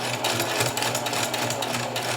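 A sewing machine runs steadily, stitching three layers of a T-shirt neck band at a quarter-inch seam, its dense mechanical whir continuous and close throughout.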